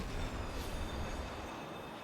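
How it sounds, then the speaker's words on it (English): A train rumbles past in the video game Destiny 2, a loud, steady low roar with broadband clatter that holds through the moment, then eases slightly toward the end. "It was a train!"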